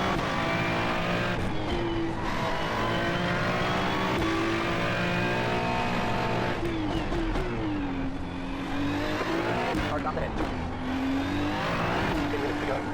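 GT3 race car engine in the iRacing sim at Summit Point roars continuously at high revs, pitch rising and dipping through gear changes and corners, loud and close throughout.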